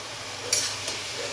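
Cabbage with ginger, tomato, cumin, turmeric and coriander powder being stirred in a pan: soft background sizzle with two brief scraping strokes of a spatula, near and fairly quiet.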